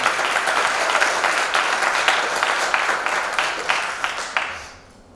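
Audience applause at a journalism conference closing convocation fills the room with steady, dense clapping that holds for several seconds, then thins out and fades away at the end.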